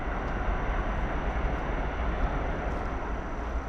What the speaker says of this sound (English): that might be the train